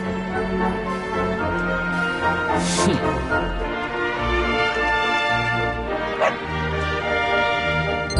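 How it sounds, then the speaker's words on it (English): Dog barks and yips in the Dragon Quest XI video game, a few short bursts over a busy layer of game music and ambience. "No, not a dog! Anything but that!"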